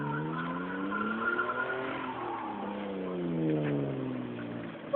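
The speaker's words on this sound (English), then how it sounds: "Did you see that drift?" A VR Commodore driving game plays a car drifting, with loud, sustained tire squeal and a steady engine note sliding through several seconds of continuous skidding.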